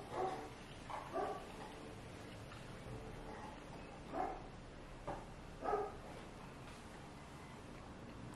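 Female dogs barking indoors at home, a few separate bark bursts spread across the span, moderately near but fairly soft, with quiet gaps between them.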